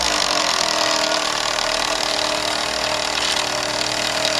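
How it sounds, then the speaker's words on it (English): A motor on an old yard-sale machine with a clutch and rewind is switched on and runs with a loud, steady, close whirring drone throughout, with no one talking. "we're going to turn the motor on now"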